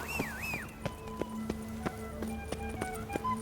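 A horse's hooves clip-clop in a steady, fairly quick rhythm in The Witcher 3: Blood and Wine, faint and moderately distant, with a short rising-and-falling game tone at the start.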